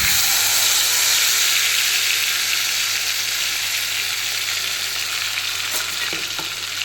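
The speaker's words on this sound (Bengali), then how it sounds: "এই মিশ্রণটা আমি তেলের মধ্যে দিয়ে দেবো" A paste of cashew, onion, ginger, garlic and green chili sizzles in hot oil for a bhetki fish dish, making a loud, steady, close hiss that eases slightly over time with a few faint clicks near the end.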